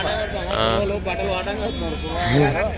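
Sheep bleat at the Pebbair sheep market, a couple of wavering calls rising over close, continuous talk from someone speaking.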